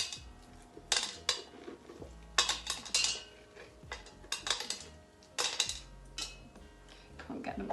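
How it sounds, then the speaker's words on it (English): Seeds being scooped by hand out of peeled pumpkins for soup, close-up wet scraping and soft knocks against a bowl or dish in uneven bursts, with no talking. "I'm just going to scoop out these pumpkin seeds, put them into here"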